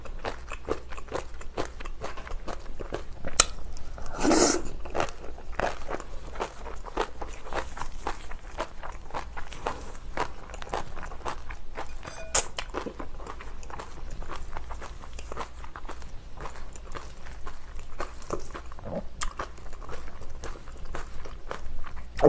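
Someone eats kimchi with rice, giving steady close-up crunchy chewing and bites that repeat throughout, with no talk over them.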